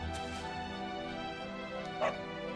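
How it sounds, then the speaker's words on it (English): A dog in the video game Dragon Quest XI gives a short bark-like yip over a steady bed of game music, one brief bright burst near the end. "It's a doggy."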